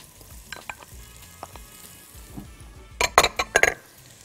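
A large spoonful of minced garlic fries with onion in hot oil, making a sauce base for stuffed vegetables. A soft, low sizzle runs throughout, with scattered light clinks and a quick burst of close stirring and scraping near the end.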